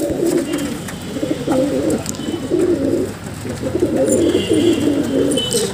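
China pigeons, a male and female kept at home, coo steadily in repeated low rolling phrases, close by and continuous, with faint chirps above and no talk.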